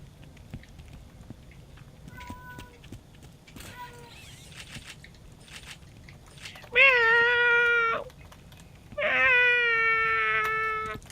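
A cat meows twice, loud and close, each call drawn out for about a second, separated by a short pause over a quiet room background with faint sounds.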